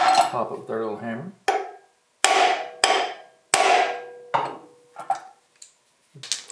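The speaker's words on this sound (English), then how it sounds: "Pop it with our little hammer." A small hammer strikes a metal puller about eight times on a John Deere 755 tractor, sharp ringing taps spaced unevenly, each leaving a short metallic ring, with a brief voice at the start.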